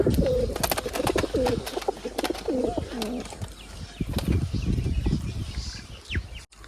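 Repeated low pigeon coos close by, with quick fluttering wing flaps and scattered clicks over a steady background hum.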